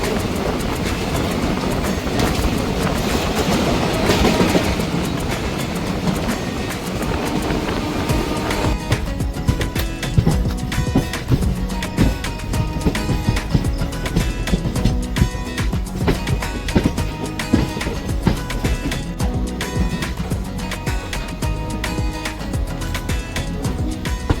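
A Puri Weekly Superfast Express passenger train running along the line, with a steady loud rumble and rhythmic wheel clatter over rail joints throughout, no voices heard.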